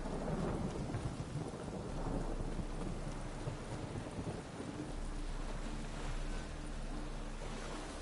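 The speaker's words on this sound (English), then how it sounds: "Rain, I like rain." Rain and thunder from the video game The Witcher 3: steady rainfall hisses throughout, with deep rolling thunder rumbling underneath, continuous and fairly soft, with no speech.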